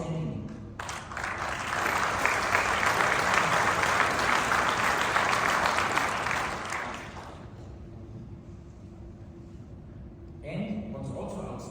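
A conference audience at a business event claps in a broad, sustained wave of applause that swells, holds steady for several seconds, then fades out, followed briefly by a voice speaking.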